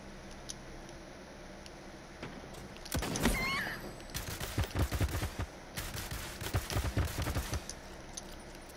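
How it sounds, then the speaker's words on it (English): Video game gunfire in a squad battle match, a few sharp shots followed by bursts of rapid fire that come and go across the stretch, fairly close, with no talk. "Oh god, he's shooting at me."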